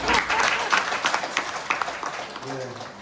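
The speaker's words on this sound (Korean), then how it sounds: "박수 한번 부탁드리겠습니다" A seated audience at a product presentation breaks into lively applause that gradually thins, and a voice comes in near the end.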